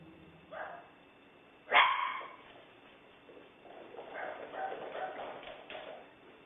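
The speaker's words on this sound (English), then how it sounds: "You can see and hear the two dogs running and barking" Two dogs run and bark inside a home at night: a sharp bark stands out near the middle, with softer yips and paw patter around it and some faint background murmur.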